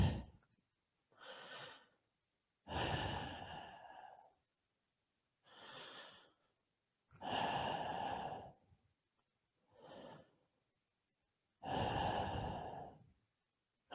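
Slow, deep breaths during a gentle yoga stretch on a mat, six long inhales and exhales spaced a few seconds apart with quiet pauses between, close and clear with no talking.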